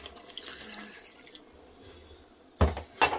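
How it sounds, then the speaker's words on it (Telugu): Water is poured into goat head curry in a pressure cooker: a quiet stretch of faint kitchen noise, then two short, loud splashing pours close by. "ఒక 2 గ్లాస్ అయితే వాటర్ పోసుకుంటున్నా"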